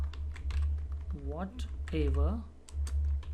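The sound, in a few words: typing text on a computer keyboard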